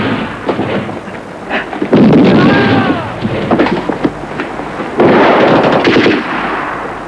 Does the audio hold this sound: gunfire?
yes